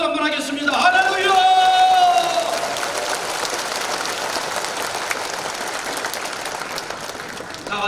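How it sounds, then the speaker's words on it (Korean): A congregation at a Korean Presbyterian thanksgiving worship service for a newly installed vice moderator bursts into loud, continuous applause with some shouts, following a brief spoken voice at the start. "하나님께 영광의 박수 한번 하겠습니다."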